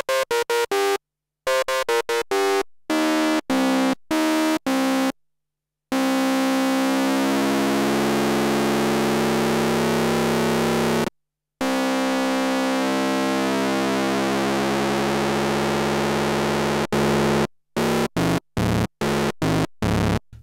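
Super6 and Jupiter6 synthesizer triangle-wave tones play as sustained, smooth held notes with evolving harmonics, broken by short staccato stabs at the start and end and a couple of brief silent gaps.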